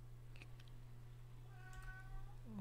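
A cat meows once, faint and drawn out, over a low steady electrical hum in a quiet room.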